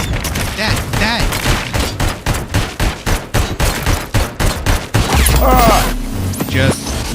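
The ED-209 robot in RoboCop Rogue City fires a relentless, loud, rapid burst of gunfire that keeps going without pause, followed by heavy mechanical rumbling and whooshing effects.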